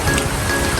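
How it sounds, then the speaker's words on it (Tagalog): Sudden heavy rain pours down outdoors at a home cooking setting, a loud, steady, dense hiss of drops on surfaces filling the whole moment with no talking. "Bigla pong bumuhos ang ulan."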